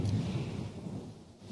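Thunder rolls far off as a low, soft rumble in gray daylight, a single sustained grumble that slowly fades with no voices over it.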